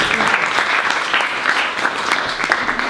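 Audience applause at a Rotary Club awards night, a sustained dense burst of many hands clapping at fairly close range, steady and loud throughout.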